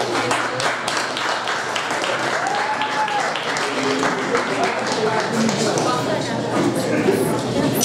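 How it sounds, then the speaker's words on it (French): An audience at a university student election debate applauds a candidate for the student association vice-presidency. The clapping is dense and continuous, with voices and chatter carrying over it throughout. "On peut l'applaudir ici."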